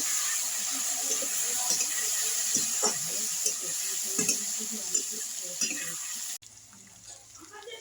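Radish and potatoes frying in a pan for a Bengali bhola fish curry, a steady close sizzle with occasional stirring scrapes, cutting off abruptly near the end to a faint low hum.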